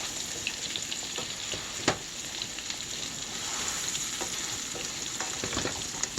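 Turkey patties fry in a thin layer of olive oil, giving an even, close crackling sizzle with a few sharp pops and no talking.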